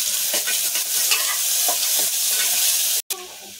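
Onions sizzle and fry in a hot pan with curry leaves, steady crackling broken by scraping stirs, then a brief drop to silence near the end.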